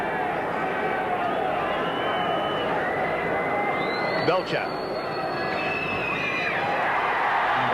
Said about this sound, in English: The roar from the crowd tells you that he's been successful.